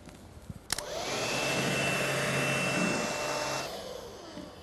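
Cordless vacuum cleaners, including a Dyson DC59 Animal, a Shark and an Electrolux, run over fine dust on a hard floor. A click precedes a loud, steady motor whine and airflow roar held close for several seconds, then tapering.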